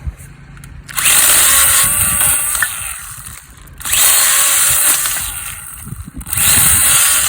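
A small handheld chainsaw buzzes loudly in three long cutting bursts, its motor dropping to a lower idle between them.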